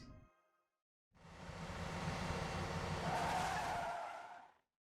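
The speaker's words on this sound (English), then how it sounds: "Yeah, that's car noises." A car in a video game skids with a long, screeching tire squeal over a roaring engine, building and then cutting off after a few seconds.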